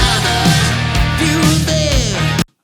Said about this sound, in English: So let's go ahead and take a look at some of the lead guitar stuff.